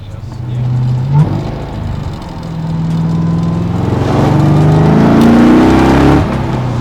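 Supercharged C2 Corvette split window driving on a bumpy road, its engine droning loud and close throughout with rising revs near the end, while occupants talk over it.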